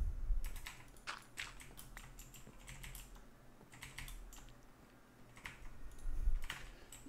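Computer keyboard keys pressed in quick, irregular bursts during Minecraft play, soft clicking clusters over a faint low hum with no voices.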